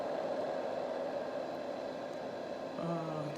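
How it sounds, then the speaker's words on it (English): An AccuMed Classic white noise machine runs with a soft, even hiss that stays constant and fairly quiet, and a faint tonal murmur enters near the end. "this white noise machine is by AccuMed"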